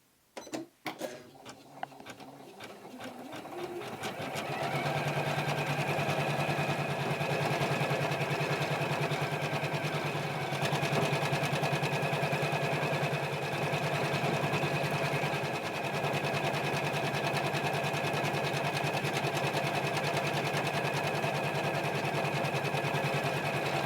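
An embroidery machine stitches lettering on fabric, starting with a few clicks and then running as a loud, steady, rapid mechanical chatter that continues unbroken to the end, with no talking.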